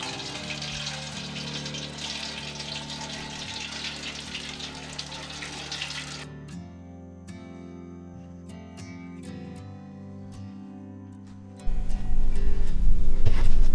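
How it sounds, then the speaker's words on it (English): Water runs steadily for a camper shower, a loud continuous gush that drops to a quieter flow with a few faint clinks, then surges loud again at the end. "Time to get Jess some shower water ready so we can start our day."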